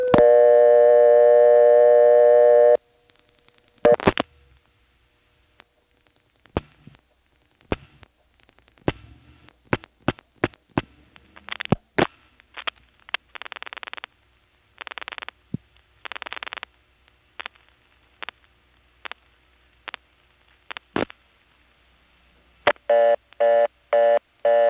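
A 1977 NX1 step-by-step telephone exchange in Farmville, North Carolina, dialing into MF trunks: a steady tone, then clicking relays and switch pulses with bursts of multifrequency tones, ending with a rapid run of MF digits over a faint high whine.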